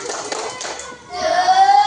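Children clapping a quick rhythmic spirit clap in an Indonesian classroom, a burst of patterned group claps with young voices chanting along, followed by a rising sung or called-out tone.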